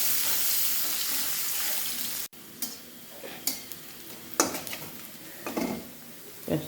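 Onion and spices frying in a pan for a snakehead (shol) fish curry: a steady sizzle that cuts off abruptly, followed by intermittent stirring scrapes and crackles.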